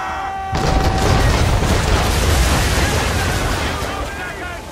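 Ship cannons fire in Assassin's Creed III, a sudden heavy boom that swells into a long, roaring barrage of blasts and rumbling that stays loud for several seconds, with shouting voices mixed in.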